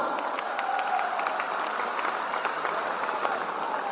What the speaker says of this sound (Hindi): अभी तक की जोरदार तालियां दोस्तों।